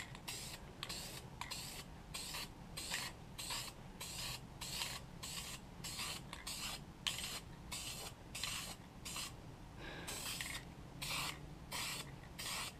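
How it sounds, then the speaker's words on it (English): A spray paint can hisses over a stencil on skateboard grip tape in a rapid series of short, even bursts with brief gaps between them, close and fairly quiet. "So now we gently spray over top of this."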